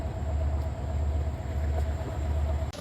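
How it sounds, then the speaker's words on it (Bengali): Steady low rumble and rattle of a train at Kamalapur station in Dhaka, heard from inside the carriage, continuous and fairly loud with a faint mechanical whine. "We are in train."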